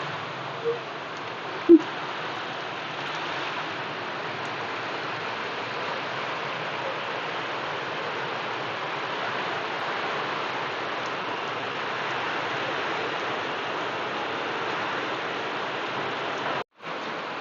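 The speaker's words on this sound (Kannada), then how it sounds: "ಏನಿಲ್ಲದೆ ಎತ್ತಿಲ್ದ ಒಮ್ಮೆ ಜೋರು ಮಳೆ" Steady heavy rain pours without a break as a continuous broadband wash, with one brief knock early on and a short dropout near the end.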